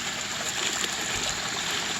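Water runs steadily over a backyard garden waterfall with a leak, a continuous broadband rushing and trickling wash held at an even level throughout, fairly close and with no voices.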